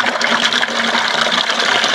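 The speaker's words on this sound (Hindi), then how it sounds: "यहाँ से 24/7 आपको गर्म पानी मिलेगा। अभी यहाँ पे अगर खोलते हैं इसे" Hot water gushing from an opened tap at a lodging near Saramati Peak in Nagaland: a steady, close, hissing rush of flowing water with no talk over it.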